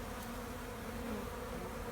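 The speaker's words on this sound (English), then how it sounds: "every one of the bees kind of lands here and crawls in" Honey bees buzz steadily around a spring hive feeder, a close, continuous humming drone with no talk.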